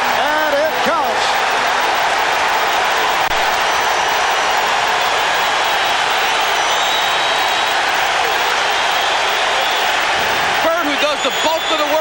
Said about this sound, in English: Just when the crowd seems to feel it has a chance to yell a little bit